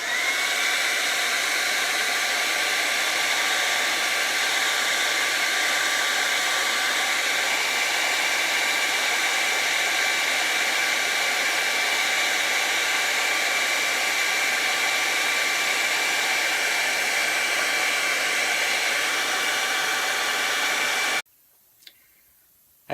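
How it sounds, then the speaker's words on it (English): A hair dryer blows steadily and loudly, drying a repair coating on a leather car seat, holding a constant whooshing drone with a high whine for about twenty seconds before cutting off abruptly. "A simple hair dryer will help dry it out."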